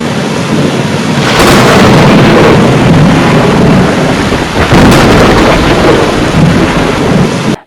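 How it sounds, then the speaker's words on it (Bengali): Heavy rain pours down in a loud, dense roar with rolling thunder swelling twice, once early and again midway, continuous and close with no talking. "এমন সময় ঘোর বৃষ্টি নামলো"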